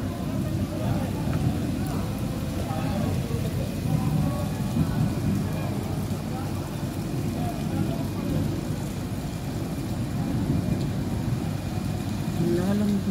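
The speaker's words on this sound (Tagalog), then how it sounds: "Lumakas na naman yung ulan." Heavy rain pouring steadily during flooding in Dubai, a constant broadband roar with low rumbles like distant thunder, close and continuous throughout.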